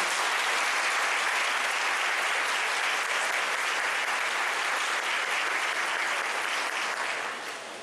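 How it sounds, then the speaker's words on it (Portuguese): A church congregation at a parish mass with a bishop present breaks into dense, sustained applause that fills the room and tapers slightly at the end. "Uma salva de palmas para ele."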